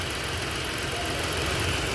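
A Ford Explorer engine runs steadily after a water pump replacement, a close, even idle hum with a constant mechanical whir and no voices over it.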